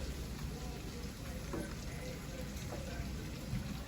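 Breakfast potatoes fry in butter in a pan, giving a steady, soft crackling sizzle that stays even and low for the whole stretch with no talk over it.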